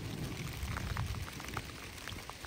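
Steady rain falling outdoors, a continuous hiss of drops with scattered sharper patters on surfaces, no voices.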